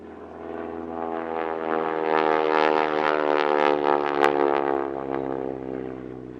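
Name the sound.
propeller warbird training aircraft flying at Duxford airshow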